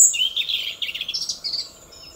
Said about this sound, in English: Look at that little robin up there singing away.